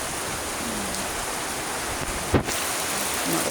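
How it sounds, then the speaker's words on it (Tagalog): Heavy typhoon rain from Typhoon Carina pours as a steady, dense wash of noise, with one brief louder thump partway through and no talking. "Maulan."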